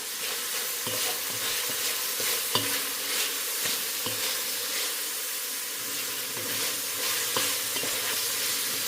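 Beef lo mein noodles with cabbage and carrots stir-fried in a smoking pan: a steady loud sizzle and hiss with repeated scraping stirs of a utensil throughout.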